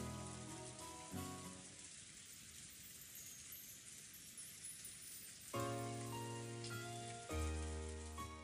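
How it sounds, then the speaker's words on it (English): Strong wind and rain from the Umineko When They Cry game: a dense, steady wash of rain on a surface with low tonal music chords cutting in and out over it, no voices. "The wind and rain were strong"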